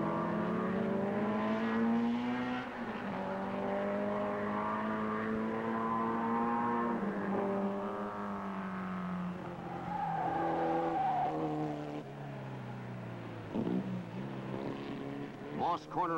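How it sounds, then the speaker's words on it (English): Race cars at Mosport circuit, including a Chaparral and a Lotus, roar past with sustained high-pitched engine whine and shifting pitch, loud and close, with faint tire noise near the end and no voices. "the order is Paul in the Chaparral, number 66. Gregory in the Lotus, number 4"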